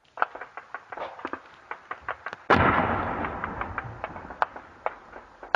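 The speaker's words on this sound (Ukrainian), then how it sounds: "Такі потужні вибухи, направду, ціла серія, почали лунати в районі Пісків близько 7-ї." A rapid series of sharp wartime blasts and pops at a distance near Pisky on the outskirts of Donetsk, one heavier boom midway with a long rumbling tail, then more cracks continuing.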